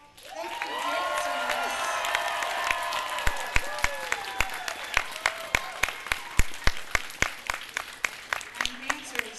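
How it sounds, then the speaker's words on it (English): An audience at the AnthroExpo 2023 fursuit dance competition claps and cheers loudly, then the applause thins into scattered, sharp individual claps that fade toward the end. "So give them one more round of applause."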